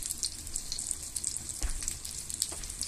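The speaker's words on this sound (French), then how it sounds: "On fait cuire la viande hachée." Ground meat frying in oil in a pan while cooking bricks: a steady, fine sizzle with small crackles and pops, moderately quiet and close, with no talking.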